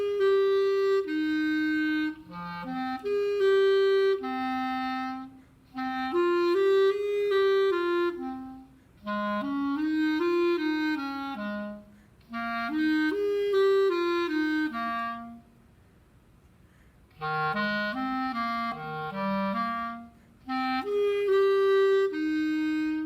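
Clarinet playing the first clarinet part of a concert band piece, a slow lyrical melody in phrases separated by short pauses, steady and clear with nothing else heard.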